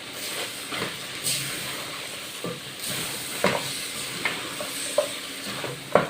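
Vegetables tossed a few at a time into a hot pan for beef stew, a loud continuous sizzle and hiss with repeated sharp scrapes and clinks of stirring spaced through the clip, close up and without voices.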